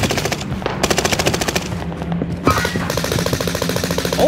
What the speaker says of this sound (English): the recoil on this gun! It actually nerfed the shit out of this